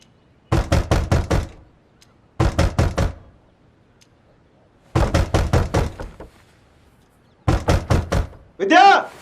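Someone pounds hard on a door in four bursts of rapid, heavy knocks, close and loud, with pauses between, and a voice begins shouting at the very end.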